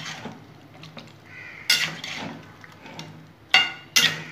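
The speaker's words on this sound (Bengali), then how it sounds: "এটা এখন আমি হাই হিটে প্রথমে কিছুক্ষণ নেড়ে নেব" Chicken stirred in a pan over high heat, with a spoon clinking and scraping against the metal in uneven strokes, several sharper knocks standing out over a low sizzle.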